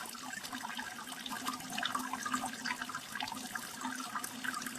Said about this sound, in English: you can hear this water running. Familiar sound to all of us.